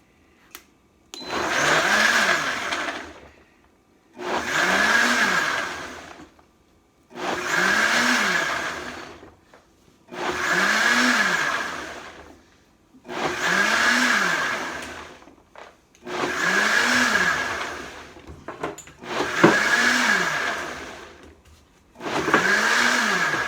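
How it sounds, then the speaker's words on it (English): A blender on its smoothie function runs in seven evenly spaced bursts, each roar rising and falling in pitch before a short pause, loud and close with no talking. "So I think to make sure it's blended, I'm just going to use the smoothie function"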